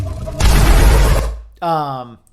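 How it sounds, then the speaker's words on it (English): A sound design contest entry bursts into an intense explosion: a loud, broadband roar with heavy low rumble that swells, holds for about a second and decays, followed by a voiced tonal sound. "The explosion is nice and intense and sounds really good"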